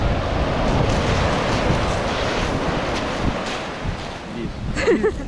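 Sea waves wash against the shore under gusting wind on a sunny December morning. The roar is broad and continuous and fairly loud, with brief voices near the end.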